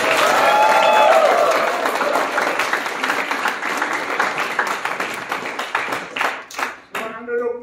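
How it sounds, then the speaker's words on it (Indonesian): A congregation at a Sunday worship service at a theology college breaks into loud, sustained applause that fades in uneven waves toward the end, with voices mixed in. "Tepuk tangan lagi"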